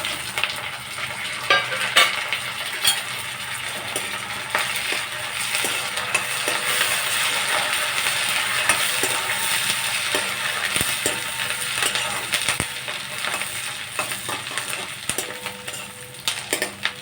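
Cumin, mustard seeds, curry leaves and green chillies frying in hot oil for an Andhra-style amaranth fry, a steady crackling sizzle with popping seeds and occasional utensil scrapes, close and continuous without speech.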